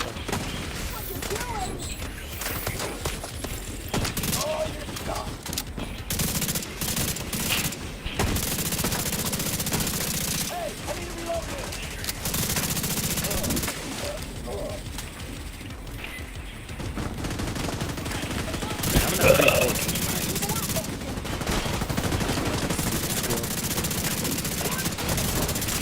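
Rapid gunfire from The Division 2 video game rattles almost nonstop in sustained bursts, loud and dense, with a few brief gaps and some mechanical noise mixed in.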